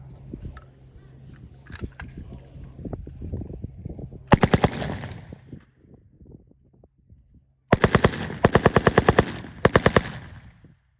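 WWII-era submachine gun, a predecessor of the PPSh, fired at an outdoor weapons demonstration: one loud burst around four seconds in, then several rapid bursts near the end, with scattered clicks and handling noise before.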